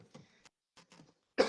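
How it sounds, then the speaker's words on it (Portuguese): A single sharp cough bursts out near the end, loud and close, after a few moments of quiet breathing and faint mouth noises. "Estou com um pouco de tosse hoje"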